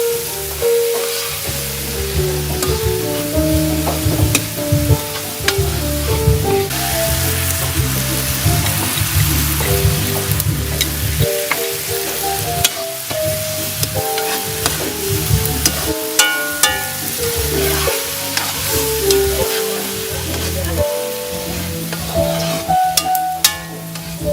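Vegetables and mint frying and being stirred in a pan for a vegan dish, with steady close sizzling and intermittent scraping and stirring knocks throughout, no talking.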